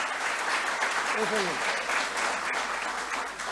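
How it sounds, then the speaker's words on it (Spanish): Audience applause at a Sunday church service marking the International Day of Persons with Disabilities, a continuous, moderately distant wash of clapping with a short vocal sound mixed in partway through. "Podemos aplaudir a Javier por el tremendo sacrificio que hace"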